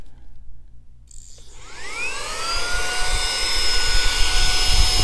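A Saker 3-in-1 mini vacuum cleaner switches on and spins up to a loud, steady high-pitched whine with a rushing airflow hiss, running continuously up close.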